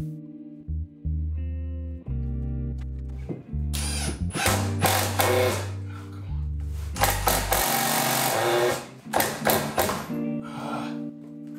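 Power drill driving 2.5-inch framing screws while reframing a doorway, motor whirring in bursts that strain and bog down, loud and close with short stops between screws, no talking.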